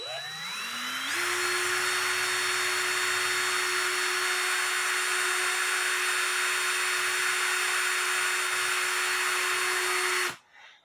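A Dremel rotary tool polishes the pivots of cuckoo clock gears, spinning up with a rising whine and then holding a steady high-pitched hum for about nine seconds before cutting off, close and loud.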